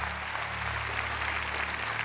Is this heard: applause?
yes